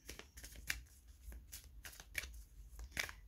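A tarot or oracle deck is shuffled and cards are drawn for a reading, giving quiet, close papery riffles and soft snapping taps in an uneven rhythm, with no talking.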